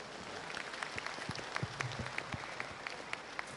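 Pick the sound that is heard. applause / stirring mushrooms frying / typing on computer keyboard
applause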